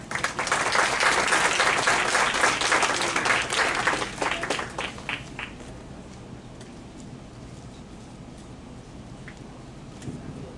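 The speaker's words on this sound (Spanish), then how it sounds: "Aplausos al ponente José Feliciano Nishikawa" An audience at an evening lecture on Chinese immigration in Peru bursts into loud, dense applause for the speaker. It thins into scattered claps after about five seconds and fades into quiet room noise.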